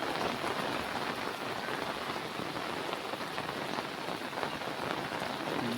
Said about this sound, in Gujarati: જુઓ જબરદસ્ત વરસાદ ચાલુ છે.